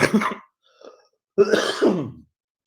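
A man in a formal meeting coughs and clears his throat in two loud, close bursts, with a short pause between them.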